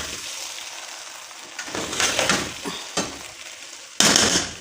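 Ghee being mixed into jaggery rice for Punjabi-style gur rice, with several bursts of wet stirring and sizzle at close range, the last one loudest, and no talking.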